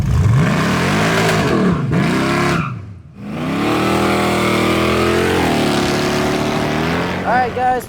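Supercharged small-block V8 in a 1968 AMX revving hard, loud and close, with a brief drop to near silence between blips before a long sustained roar and quick throttle stabs at the end.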